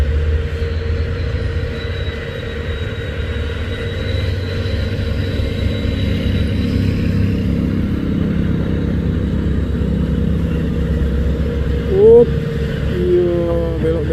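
A loaded container truck trailer grinds uphill on a winding road, its deep diesel engine droning steadily and loudly nearby for the whole stretch, with a short higher whine and squeal near the end.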